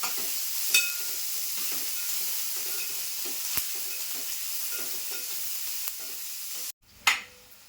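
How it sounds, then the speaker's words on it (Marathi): Finely chopped onions frying in a pan make a continuous bright sizzle, broken by a few utensil knocks and scrapes, a brief drop-out, then a louder clink. "2 कांदे मी मोठे असे कापून घेतले आहेत बारीक बारीक, ते पण टाकते"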